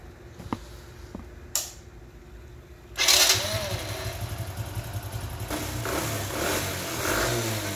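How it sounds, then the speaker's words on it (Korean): Daelim Citi motorcycle engine starting after an oil change: a few faint clicks, then the small single-cylinder engine catches with a sudden loud burst and settles into a steady close idle putter. "시동 한번 걸어보겠습니다."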